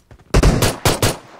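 Automatic gunfire in PUBG Mobile on the Erangel map: a short burst of loud, close shots, about four sharp blasts in quick succession, each with a brief ringing decay.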